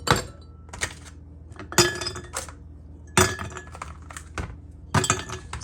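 Ice cubes drop into a container for a homemade beetroot and carrot juice, giving four sharp glassy clinks and knocks spaced about a second apart, close and loud with nothing else in between.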